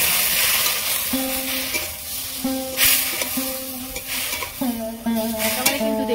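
Semai vermicelli frying in a pan while a sugar-and-milk mixture is added a little at a time, with steady sizzling and the scrape of stirring, with a few short clear tones sounding over it; no one speaks.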